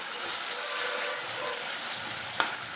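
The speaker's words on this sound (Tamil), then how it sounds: "கூடவே நம்ம சேர்த்து வதக்கலாங்க" Small onions and tomatoes sauté in a pan with a steady, even hiss of frying, close and moderately loud, with a single light utensil tap near the end.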